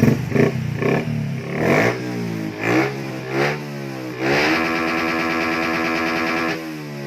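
A remapped engine revving repeatedly in short bursts, pitch sweeping up and falling back, then holding a sustained high scream near 9,800 rpm before cutting off. It is loud and close with some echo and mechanical clatter, and nobody talks.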